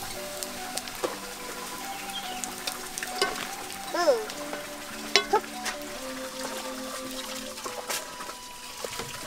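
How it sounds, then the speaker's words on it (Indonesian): Tempeh frying in hot oil, a soft continuous sizzle with scattered pops and clinks of a utensil, while people talk over it outdoors in a rice field. "Goreng tempai."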